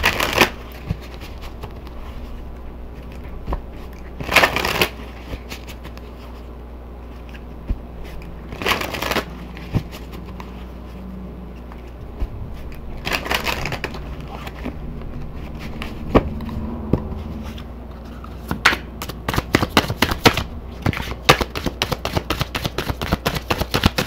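A deck of intuition cards being shuffled by hand, with several loud papery riffling bursts separated by quieter handling, ending in a quick flurry of crisp card flicks close up.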